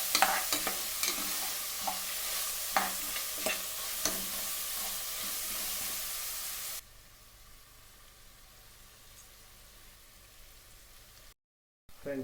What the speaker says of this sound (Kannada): ಇದು ಚೆನ್ನಾಗಿ ಒಂದು 5 ನಿಮಿಷ ಫ್ರೈ ಆಗಬೇಕು